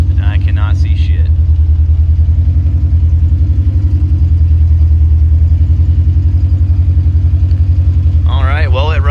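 A car with a Honda K24 engine idles close by with a loud, steady, even rumble throughout, and a voice breaks in briefly at the start and the end.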